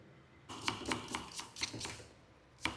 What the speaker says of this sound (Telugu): ఇక ఇది ఉల్లిపాయ అనేది సన్నగా కట్ చేసుకుందాం.